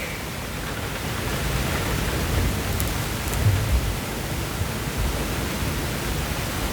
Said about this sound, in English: Rain just got kind of rough.